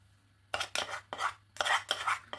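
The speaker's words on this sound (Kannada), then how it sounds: "ನಾನೊಂದು ಬಾಣಲೆ ಇಟ್ಕೊಂಡಿದ್ದೀನಿ, ತುಪ್ಪ ಹಾಕ್ಕೊತೀನಿ ಫಸ್ಟು." A spoon adds ghee to an iron frying pan (bāṇale) while someone cooks besan ladoo at home. A few soft metallic scrapes and clinks sound close but quiet, in short separate strokes.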